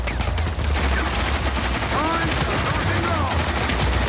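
Rapid gunfire in the Uncharted 4 survival mode, New Devon map, with dense bursts of automatic shots and clatter running continuously over a loud, busy game soundscape.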